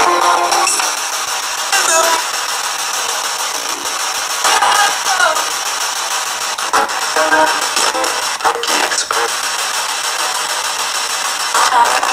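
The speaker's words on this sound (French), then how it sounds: "j'ai rallumé la Ghostbox" A ghost box radio sweeps through stations during a paranormal investigation in an old inn, producing a continuous loud hiss of static broken by choppy bursts and crackles throughout.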